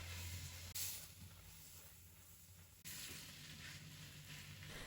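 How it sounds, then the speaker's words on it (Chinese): Wood ear mushrooms and pork belly stir-fried fast over high heat in a wok, giving a steady close sizzle and hiss with scraping tosses and two sharper bursts as the food is flipped. "大火快速翻炒均匀"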